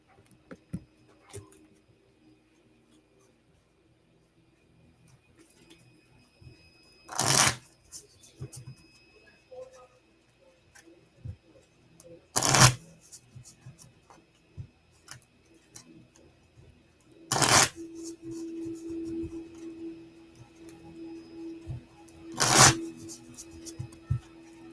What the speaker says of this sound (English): I'm going to go ahead and pull some cards for you.